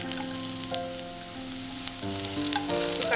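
Cashews roasting in hot oil in a pan with browning onions give a steady, close sizzle and crackle throughout, with faint utensil touches and no talking.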